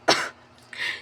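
Two short coughs close up, a sharp first burst followed by a softer second one after a brief pause, while watching a play.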